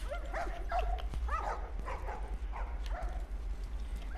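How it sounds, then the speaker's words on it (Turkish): Dogs in the video game The Last of Us Remastered growl, bark and yip in a series of sharp, repeated bursts over a low rumbling background, fairly close, with short pauses between calls. "Köpekler alıyor, çok korkunç."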